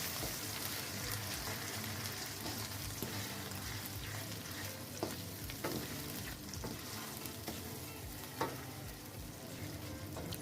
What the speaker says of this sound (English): So you just bring it in and you allow it to fry.